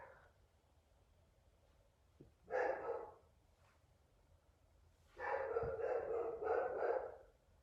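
A dog barks indoors, one short burst of barking followed after a pause by a longer run of rapid barks, moderately distant and fairly faint.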